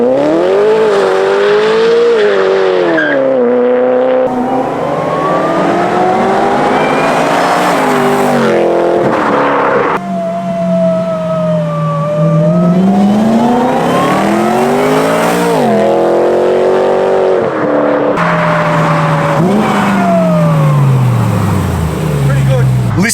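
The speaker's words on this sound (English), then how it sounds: "You'll hear the exhaust from the back and that supercharger from the front." A supercharged BMW M3 pulls hard down a street in repeated runs, its exhaust roaring while a high supercharger whine climbs with each gear and drops at each shift, loud and sustained, with some talk over it.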